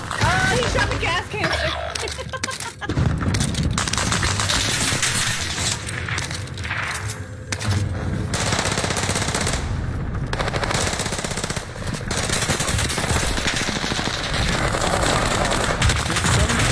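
Video game gunfire from Call of Duty, with rapid automatic bursts and scattered shots running almost continuously at a loud level, while a player talks over much of it.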